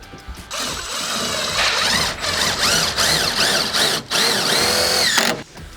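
A power drill drives a self-tapping screw through carpet into a van's interior panel, whirring loudly and close in a sustained run with rising and falling pitch and a brief pause before it stops.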